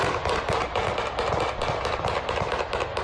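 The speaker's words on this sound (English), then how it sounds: "What sounds like a fully automatic weapon was captured by a News Channel 3 viewer." Rapid bursts of sharp cracks from a fully automatic weapon at a motorcycle clubhouse fire in quick succession, a dense, fast rhythm of pops, somewhat distant and echoing.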